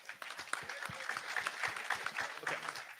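Audience applause for a panel, a short burst of scattered clapping heard fairly faintly and somewhat distant, with uneven individual claps standing out.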